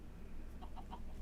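Minecraft chicken clucking in three short soft clucks in quick succession, faint over a steady low background hum.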